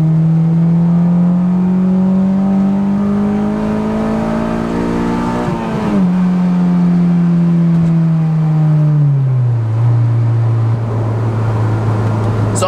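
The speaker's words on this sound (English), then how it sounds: "you can hear where VTEC really kicks in" A Honda S2000 engine holds a loud, steady drone from inside the car, its pitch climbing and shifting as VTEC engages, then easing lower as revs settle.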